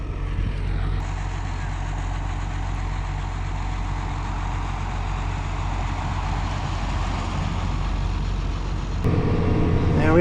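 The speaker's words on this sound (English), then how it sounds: "Here comes an Eberhardt's truck." A truck rolling along a country road beside farm fields, its engine rumbling steadily and fairly loud throughout, growing heavier near the end as it draws close.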